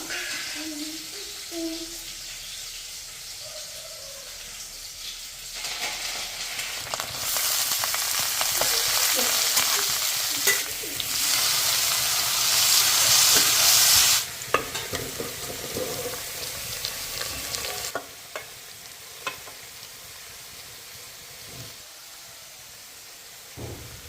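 Garden vegetables such as snake gourd, banana stem, bottle gourd and eggplant fry in a pan with a loud steady sizzle and hiss that swells in the middle, alongside occasional stirring clatter and brief talk.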